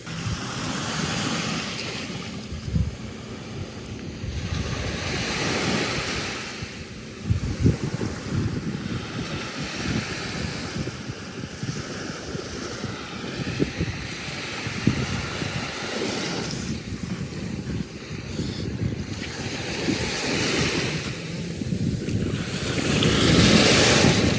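Ocean surf rolls onto a Florida beach flying a red flag, waves surging and receding in steady swells under gusting wind buffeting the microphone, with no voices.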